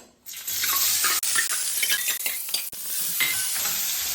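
Onions and green chilies frying in a pan, a loud close sizzle under repeated stirring scrapes and clicks of a utensil, no talk.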